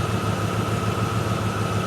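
A Range Rover engine with a misfire runs at idle, a steady low rumble with a faint uneven pulsing and a constant tonal hum, heard alone without talk.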